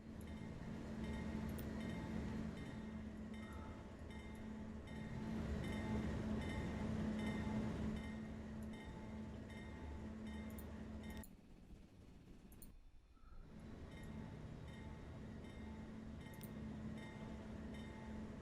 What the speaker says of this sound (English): And I've got 2 giant trains coming out over here